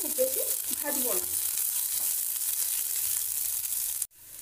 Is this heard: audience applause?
no